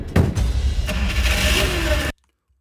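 A car engine cranks and catches, then runs at a loud, steady idle for about two seconds before cutting off abruptly into silence.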